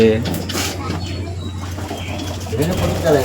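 Pet pigeons at a friend's home coo softly nearby, with a brief flutter, while people talk over them throughout.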